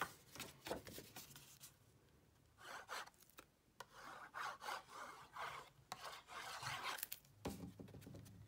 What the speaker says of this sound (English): Using my bone folder to really burnish that